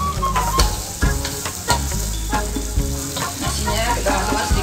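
Green fried rice with mustard greens, chilli and shrimp sizzles in a pan while being stirred, steady loud frying punctuated by repeated scraping knocks of the spatula against the metal.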